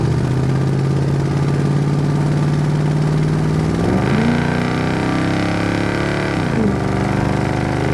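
1973 Chevrolet K10 Cheyenne pickup with a built 350 V8 and automatic transmission pulls under throttle from inside the cab, a steady low engine drone rising in pitch around the midpoint, with a shift-like dip and a second climb, loud and continuous.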